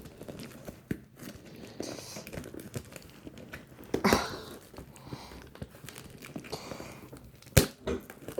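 A plastic-wrapped scrapbook album package being opened close by, with irregular crinkling and tearing of the wrap, a few sharper rustles and pauses between handling.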